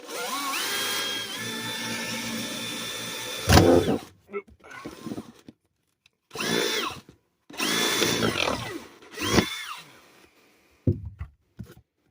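A power drill whines in a long steady burst into a plastic gas tank, then several short bursts of drilling with gaps between, close up, with a cracking crunch as the lid breaks.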